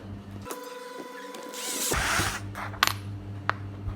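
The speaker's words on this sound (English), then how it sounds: "I will drill a 3 mm hole." A small drill whines up as it bores a 3 mm hole through cardboard, a rising buzzing whir followed by a steady motor hum and a few sharp clicks.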